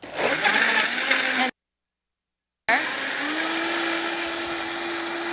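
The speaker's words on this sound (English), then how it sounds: "we're basically just going to always start the blender on low" A blender starts on low to blend a creamy smoothie, whirring loud and steady close by, cutting out briefly, then restarting as a sustained motor whine.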